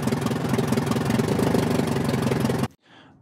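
Idling engine loop of a Booker aeroplane, a steady dense droning rumble with fast regular pulsing that runs loud and continuous, then cuts off abruptly near the end leaving a faint tail.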